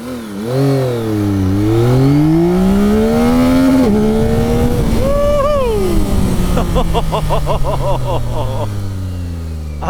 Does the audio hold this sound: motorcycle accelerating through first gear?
yes